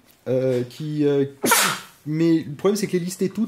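A single sharp sneeze bursts out mid-conversation, loud and close, between stretches of someone speaking French.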